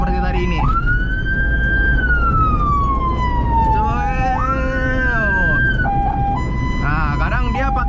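An ambulance siren wails loud and close, sweeping steadily up and down in long electronic tones, then switching to quicker stepped yelps near the end, over a constant engine drone.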